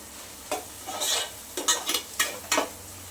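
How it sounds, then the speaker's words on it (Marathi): A spatula scrapes and stirs onions with biryani masala in a pan for soya pulao, several distinct close strokes in quick succession over a light sizzle, no talk. "हे सगळं मिक्स करून घेऊया एक दोन मिनिट सगळं कांद्यासोबत परतून घेऊयात आपण"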